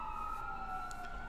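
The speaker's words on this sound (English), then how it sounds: "Is that an ambulance? Yes, that's an ambulance." An ambulance siren passes near a hospital, a steady, slightly falling wail heard at a moderate distance for a brief moment.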